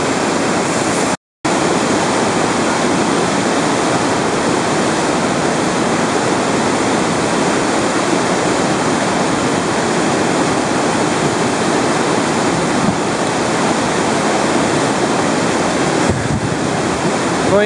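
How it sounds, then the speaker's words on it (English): River rapids churning around large boulders, a loud, steady, broadband roar of rushing whitewater that continues unbroken, close to the listener, with no voices. "Water just be churning and holding you in there."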